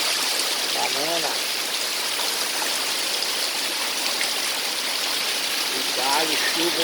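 Rain falls steadily as a loud, continuous broadband wash, with faint vocal sounds briefly rising over it near the start and again near the end.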